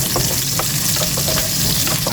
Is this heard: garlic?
yes